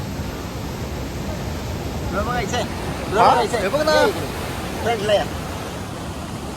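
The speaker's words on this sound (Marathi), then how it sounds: "पण केवढं ते पाणी फ्लो पण केवढं आहे" Strongly flowing water, carrying floating water hyacinth along with it, rushes in a constant broad roar, with people talking over it in bursts.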